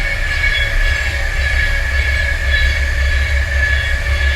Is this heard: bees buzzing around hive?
no